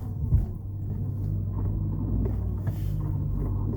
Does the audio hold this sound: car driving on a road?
yes